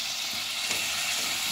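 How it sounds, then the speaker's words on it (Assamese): Broiler chicken meat fries over an open fire in a blackened kadai with a steady, close sizzle and a faint stirring scrape. "জুইতে ব্ৰইলাৰ মাংস ভাজিছোঁ"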